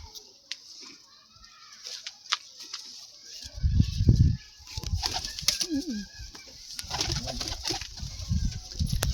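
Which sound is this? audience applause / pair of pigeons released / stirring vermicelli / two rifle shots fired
pair of pigeons released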